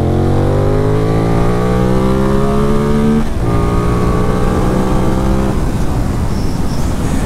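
A Benelli 752S motorcycle accelerates at full throttle from second gear on a test track, its loud engine tone climbing steadily, dropping at a gear change, then rising again before fading into wind roar.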